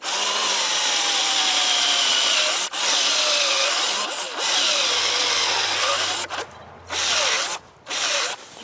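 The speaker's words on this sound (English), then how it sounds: "So you take your drill and angle it slightly up. So you start it." A power drill bores into a birch tree trunk for tapping, a loud continuous whirring grind with brief pauses and restarts near the end.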